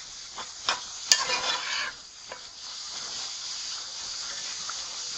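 Food seasoned with cayenne pepper tossed in a hot pan, a few quick scraping tosses over a soft, steady sizzle, close by with no talk.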